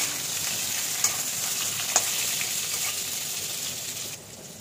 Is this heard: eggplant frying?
yes